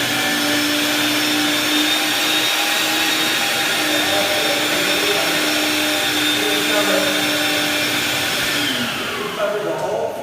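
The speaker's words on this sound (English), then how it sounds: "We're going to hook up our wet vac and extract the dirt, bring it completely up" A wet vac extracts dirt from a floor during janitorial cleaning, its loud, steady whine and suction roar running almost without a break before easing slightly near the end.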